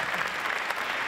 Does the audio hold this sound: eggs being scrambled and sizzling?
no